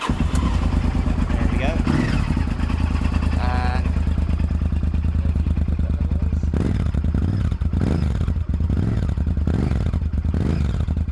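A finicky motorcycle is cranked and catches, its engine settling into a loud, steady low-pitched idle that throbs evenly throughout; someone speaks briefly over the running engine.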